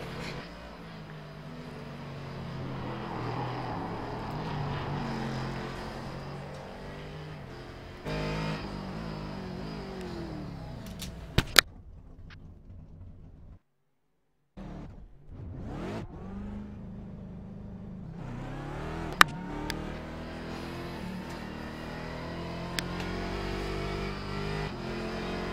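Corvette C7 DP race car engine in an iRacing practice session at Mosport, a steady loud engine drone with rising revs, cutting out briefly mid-clip before roaring back with sharp clicks.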